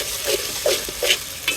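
Beef masala with onion, ginger, garlic and cardamom powder is stirred in a pan, about four scraping strokes at an even pace over a close, constant frying sizzle.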